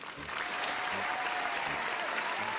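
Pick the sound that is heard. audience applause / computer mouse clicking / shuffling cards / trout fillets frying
audience applause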